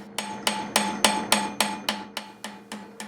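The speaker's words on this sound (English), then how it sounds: "I'm concentrating on hitting at the very ends of the bars and upsetting as much material as I can" Hammer striking a hot steel bar corner held in a vise during blacksmith forging, eleven loud ringing blows at a steady, even rhythm, close and without talk.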